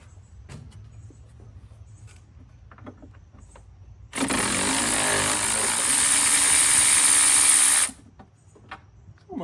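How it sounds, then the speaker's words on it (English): A Snap-on electric ratchet whirs steadily for about four seconds while working on a 1967 Volkswagen Beetle left seized for nearly 40 years, loud and close, with quiet clinks and handling noises before and after. "returned with the snap-on electric ratchet"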